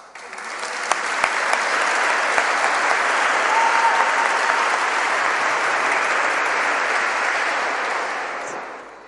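A church congregation at a Sunday confirmation Mass breaks into steady, dense applause that holds at full strength for about nine seconds before tapering off, with no talk over it.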